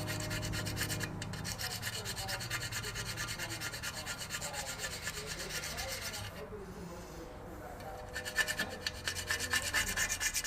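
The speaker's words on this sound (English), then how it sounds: "So I'm gonna get started on scraping this." Hand scraping on a Powerstroke E4OD transmission or differential part in a workshop, a steady rasping rub that continues for several seconds with short pauses, close and moderately loud, with no talking.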